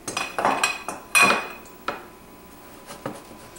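Non-stick skillet handled in a kitchen, several close metallic clanks and clinks of pan and utensils in quick bursts, then fainter taps, no talk.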